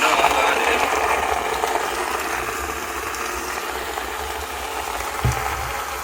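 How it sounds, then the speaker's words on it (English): A Togala personal size blender whirs continuously while crushing frozen blueberries, strawberries and raspberries, with a gritty rattling grind that stays close and fairly steady, marked by one brief knock near the end. "We're going to go ahead and blend."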